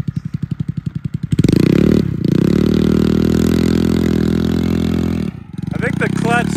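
A small engine with a worn, slipping clutch belt sputters in quick pulses, then revs into a sustained, strained drone before dropping off. It is loud and close, and a voice briefly comes in at the end.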